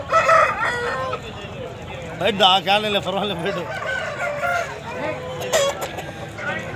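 Roosters crow repeatedly, loud and close, while people chatter throughout at a busy outdoor country-chicken market in Mydukur, Kadapa district.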